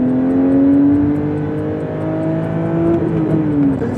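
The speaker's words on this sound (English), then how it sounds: "they're pumping in more induction noise from the engine" A 2023 Porsche 911 GT3 (992) engine revs steadily with a throaty, buzzing drone that rises slightly in pitch, loud and close, with no voices.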